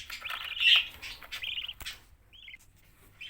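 Budgerigar chicks give thin, high chirps and squeaks, close and fairly faint, a quick cluster at first and then a few sparse calls.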